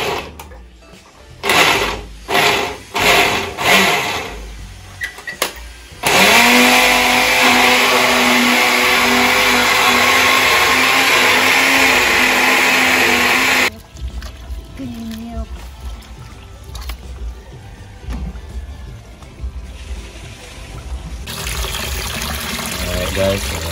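A few short bursts, then a blender whirs loudly and steadily for about eight seconds before stopping; softer clattering and mumbled talk follow.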